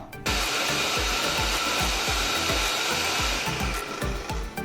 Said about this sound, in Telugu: ఈ చల్లారిన తెల్ల నువ్వుల్ని ఒక మిక్సీ జార్లోకి తీసుకోండి తీసుకొని ఈ నువ్వుల్ని పౌడర్ చేసుకుందాం